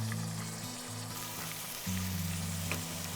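Ginger slices and white peppercorns fry in rendered chicken fat in a pot for pig stomach and white pepper soup, giving a soft, continuous sizzle beneath a low steady tonal hum.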